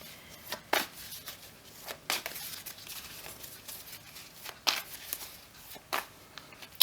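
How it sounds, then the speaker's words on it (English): Rider-Waite tarot cards riffled and shuffled in short bursts, crisp flicking rustles close by with brief pauses between passes. "We'll just do a little bit of shuffling to connect for you"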